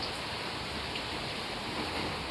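Heavy rain falls steadily on a rainy Christmas day, a dense, even hiss of downpour that holds at one level throughout with no voices.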